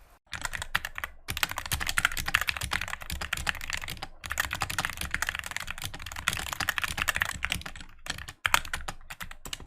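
Mechanical keyboard typing with unlubed switches, a steady dense run of clicky, clacky keystrokes close up, nearly continuous for about ten seconds with a couple of brief pauses.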